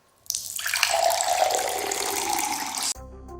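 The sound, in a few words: hot water being poured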